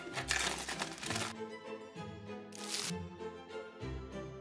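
Protective paper being unwrapped from a new Ekster Parliament leather wallet, a close, loud crinkling and rustling in a few separate bursts with brief pauses between them.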